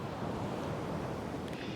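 Ocean surf at an Oregon Coast campground: a continuous, moderately loud wash of waves rolling in with no voices over it.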